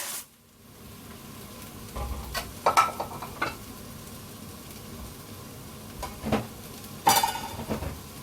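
Chopped tomatoes go into a pan of frying ginger and garlic, giving a low steady sizzle with clattering stirs and spoon scrapes against the metal pan in intermittent bursts.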